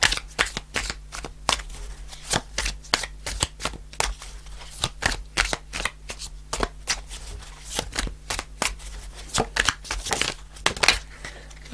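Tarot deck being shuffled by hand, close crisp riffles and snapping card flicks in an irregular rhythm of sharp bursts, steady throughout.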